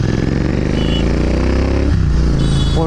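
Royal Enfield Himalayan 450 adventure motorcycle, fully loaded with accessories, running close by with a loud steady engine drone and a brief shift in tone near the end, heard alone.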